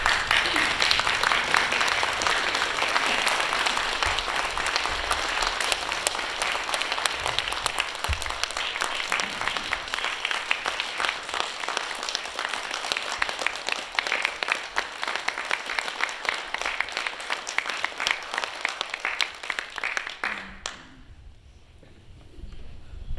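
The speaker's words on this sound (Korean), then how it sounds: "한번 일어나서 뜨겁게 환영의 박수와 함께 나오시겠습니다." Church leaders in Southern California, standing to give a warm welcome, clap in a dense, continuous wave that holds for about twenty seconds before cutting off abruptly into near quiet.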